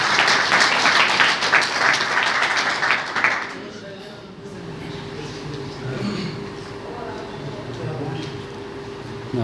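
An audience at a Pashto Eid mushaira poetry gathering in Loralai in 2019 claps loudly for a poet for about three seconds before the applause dies away. Quieter room murmur and talk follow.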